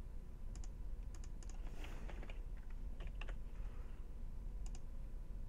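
Numbers being typed on a computer keyboard, a handful of quiet, close key clicks in short irregular bursts over a low steady room hum.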